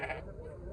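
Sheep bleat close by at a busy livestock market where rams are sold, with a short, loud cry at the start trailing into a steady murmur of market voices and noise.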